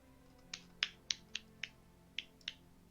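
Sharp single hand claps, about seven of them, land at uneven intervals over a quiet background. They are fairly faint and crisp, with no talking in between.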